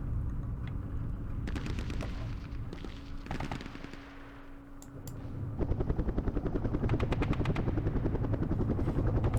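Helicopter gunships in a Vietnam War strategy game, rotor thump under bursts of machine-gun fire, with a steadier chopping rotor swelling louder in the second half.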